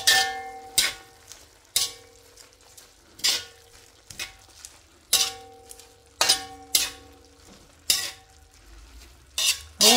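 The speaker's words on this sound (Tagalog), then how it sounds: "Haluin mabuti." Vegetables with chicken and cabbage stirred in a metal pan, a regular series of ringing spatula clanks against the pan roughly every second over a light sizzle, close and without speech.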